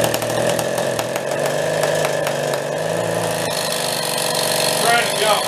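A Benelli Buzzer mini bike engine with a clogged exhaust runs steadily with a harsh, buzzy, sputtering drone that stays loud throughout, close up, with a voice speaking over it.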